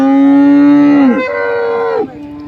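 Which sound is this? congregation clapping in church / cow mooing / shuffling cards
cow mooing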